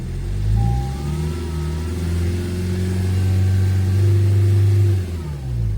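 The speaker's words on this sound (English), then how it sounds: "Rev it up." A 2016 Honda Civic diesel engine is revved in a garage. It climbs from idle into a couple of sustained, loud, close revs and then settles back down, with no talk over it.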